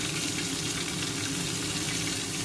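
Eggplant fries in hot oil seasoned with dried chili and panch phoron, a dense, continuous sizzle at close range holding an even level throughout, with no talking.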